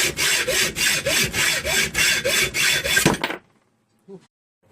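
A hand saw with a worn blade cuts wood for a knife handle in about ten even, rasping back-and-forth strokes up close. The sawing then stops abruptly and a short faint knock follows in near silence.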